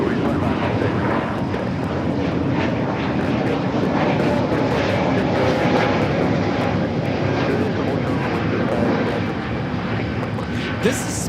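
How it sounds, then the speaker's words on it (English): A Spirit Airlines Airbus A320neo takes off at Los Angeles LAX, its jet engines a loud, sustained broadband roar throughout, with a voice talking faintly underneath. "2526 taking off to Louisville on the A320neo"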